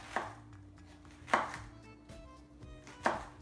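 A kitchen knife chops mushrooms into cubes on a cutting board, giving three sharp, well-spaced thuds with quiet handling noise between them, close and clear with no talking.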